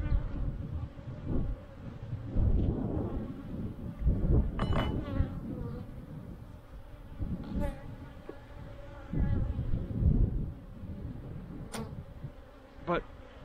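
Honeybees humming around an open hive in spring, a close steady buzz with individual bees flying past the mic, and a person speaking intermittently over it.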